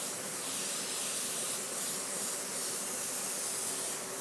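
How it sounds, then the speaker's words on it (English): Airbrush spraying a base coat of paint on a custom Xbox case, a steady, even hiss that runs unbroken through the whole stretch. "Sit here and watch me spray a base coat collar."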